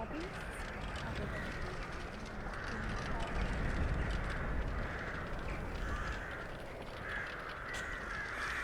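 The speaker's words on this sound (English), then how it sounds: "I think these crows, these black crows, are from Mihail's mods." Black crows added by a mod caw repeatedly in a video game, a steady series of harsh calls over a dense rushing ambient bed, with someone talking throughout.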